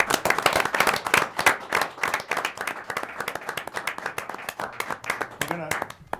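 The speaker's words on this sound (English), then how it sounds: "join me in a nice round of applause for our new firefighters" A round of applause from a crowd at a town board meeting, brisk hand claps spread across several seconds with voices mixed in near the end.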